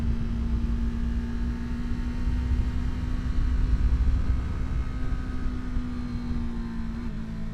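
A motorcycle engine holds a steady high-rpm drone around 6,000–7,000 rpm with a constant whine and rumble while riding through turns, loud and close throughout, with no speech.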